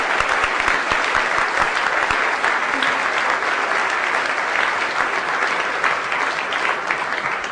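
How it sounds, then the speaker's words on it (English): A large audience at an evening event claps in a long, steady ovation, a thick continuous roar of hands that holds loud and even from start to finish, easing off only slightly at the very end. "we want to give them all a round of applause"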